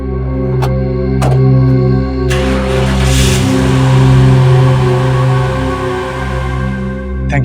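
Car driving off with a steady engine hum and rising roar, tires hissing on the road, loud and continuous over a low musical drone.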